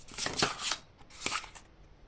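Oracle cards shuffled by hand, two quick riffling bursts of crisp papery flutter, close and fairly soft, separated by a short pause.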